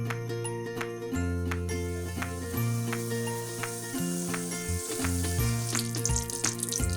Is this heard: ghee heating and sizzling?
yes